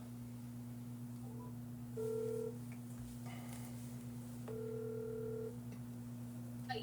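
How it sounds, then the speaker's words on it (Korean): Telephone call being placed: a steady dial or ringback tone hums throughout at low level, with two short beeping bursts partway through and no talk. "현희 전화 통화 한번 하겠습니다"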